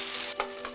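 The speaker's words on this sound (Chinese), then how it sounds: "放入羅氏蝦油煎，至焦黃撈出" Giant river prawns pan-frying in hot oil until golden, a brief, close, steady sizzle with a small crackling burst.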